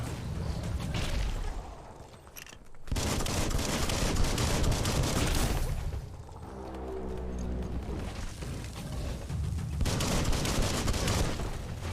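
Gunfire in the video game Biomutant, loud dense bursts of rapid shots and booming blasts filling most of the stretch, with a brief lull and a rumbling, rattling passage between volleys.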